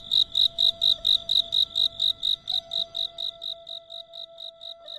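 Cicadas chirp in a fast, even pulse, each burst shrill and high, repeating steadily and close by against a faint background hum.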